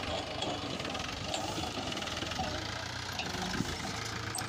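A tractor engine runs steadily with its wheels stuck in mud while the trolley is being emptied during pond digging, a continuous low rumbling drone that carries on throughout.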